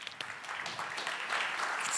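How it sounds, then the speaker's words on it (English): Applause at a pitching event, a fairly faint, even patter of clapping from a modest group, steady for the whole two seconds. "Round of applause for Round of Annija"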